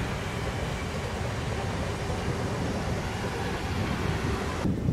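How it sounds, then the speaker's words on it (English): A long, heavily loaded iron ore freight train rolls steadily past outdoors, a continuous broad rumble and rattle of wagons that holds even and loud throughout, with wind buffeting the microphone. "train still coming past. Oh, it's braking, it's slowing down"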